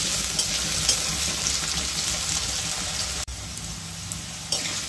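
Two medium-sized cut potatoes sizzle steadily in a hot pan for a quick fry, with a continuous bright hiss and occasional stirring scrapes, close and fairly loud, no talking.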